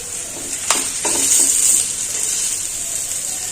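Potatoes frying in a pan for roti pizza, a steady soft sizzle with a couple of brief clinks or stirring scrapes near the start, continuing alone without talk.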